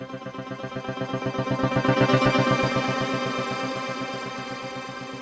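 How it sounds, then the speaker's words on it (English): Piano notes in Cubase 14 with a shimmer effect added ring out in a repeated, pulsing pattern, building to a bright, airy swell of layered tones, then slowly settling with no voice over them. "so I can add shimmer, which is an interesting effect, which will make it sound like this."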